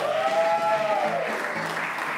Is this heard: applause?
yes